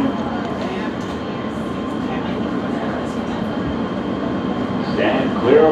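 Riding aboard an R160 G local subway train in New York, a steady loud rumble and hum of the car in motion, with a faint squeal rising near the end.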